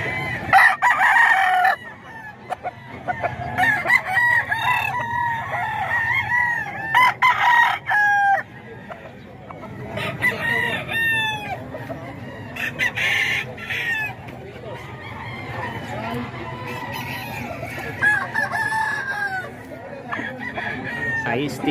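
Roosters at a Bocaue cockfighting event crow repeatedly, with many overlapping cock-a-doodle-doos and clucks near and distant, over crowd chatter and occasional talk.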